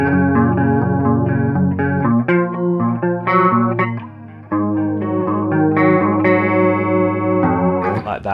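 Electric guitar riff from a song, played with chorus and distortion effects, sustained chords and single notes ringing loudly and continuously for about eight seconds with a short dip midway.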